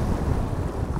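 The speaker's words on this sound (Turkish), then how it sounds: "rüzgar dediğim gibi çok fazla bir şekilde rüzgar var" Strong wind roars continuously across the microphone during lure fishing by the water, a steady loud buffeting rush with no talk.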